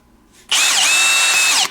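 A TECCPO 1/2-inch brushless cordless drill spins up after a brief quiet moment, holding a loud, steady high whine for about a second before cutting off cleanly.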